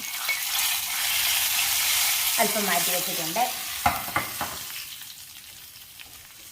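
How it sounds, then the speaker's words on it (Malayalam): Fried mustard tempering with red chillies and curry leaves is stirred into a pumpkin and tomato pachadi, giving steady close sizzling, scraping stir strokes and a few knocks of a spoon against the pan, with a short spoken phrase. "കടുക് വറുത്തത് പച്ചടിയിലേക്ക് ചേർക്കാം"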